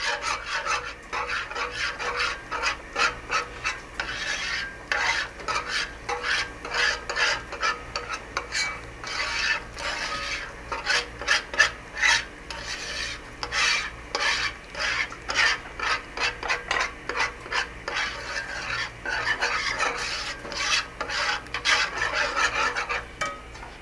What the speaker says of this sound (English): You just keep stirring, a little time, a little heat.